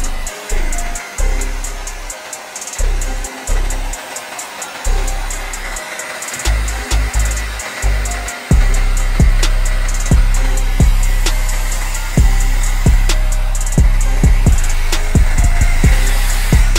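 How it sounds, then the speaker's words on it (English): A hair dryer blows steadily on an Air Jordan 12 shoe wrap, a loud continuous whoosh with repeated sharp crinkles and taps from the plastic wrap. "here comes the hair dryer, which will make the wrap even look better"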